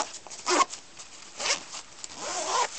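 Single zip on a Ribz front pack being worked back and forth, three distinct rasping pulls separated by short pauses, close and fairly quiet with no talking.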